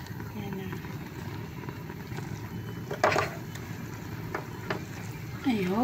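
Sweetened coconut bukayo is stirred in a frying pan, giving a faint steady sizzle with occasional scraping and clacks of the utensil against the pan, close and low.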